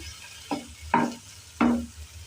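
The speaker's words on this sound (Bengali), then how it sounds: "এখন আজকে ভাজি চলতেছে।" A big fish fries in a home pan, producing three short, sharp bursts of sizzling spaced about half a second apart, each fading quickly over a quiet background.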